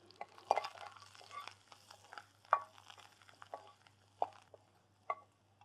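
Garlic frying with spices in a pan, with coriander, curry leaves, asafoetida and turmeric, for betel-leaf rasam; soft sizzling runs throughout, broken by a few sharp stirring clinks against the pan, with no talk.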